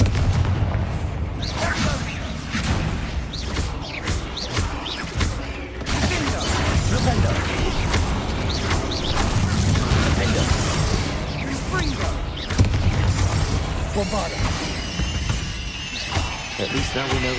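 Blasting spell explosions in the Hogwarts Legacy video game, repeated booms and crackling magic bursts over dense combat noise, with a voice heard in the mix.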